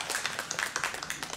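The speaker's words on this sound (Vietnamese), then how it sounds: "Xin kính mời tất cả quý vị cho một tràng pháo tay" Steady scattered hand clapping from an audience at a memorial ceremony, continuous and fairly faint, with no voices over it.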